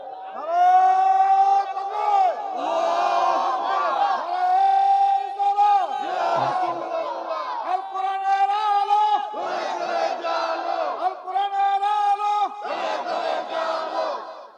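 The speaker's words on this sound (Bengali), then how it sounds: "হাত তুলে একটা স্লোগান দেন" At a religious sermon, a large crowd shouts a slogan in unison, loud, repeated chanted phrases rising and falling in waves, each bursting out together close up.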